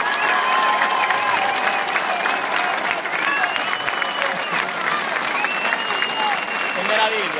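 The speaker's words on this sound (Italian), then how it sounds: "Un grandissimo applauso ad Alessandro." A huge outdoor crowd at a Five Star Movement political rally in Palermo applauds loudly and steadily, with whistles and scattered shouts rising over the continuous clapping.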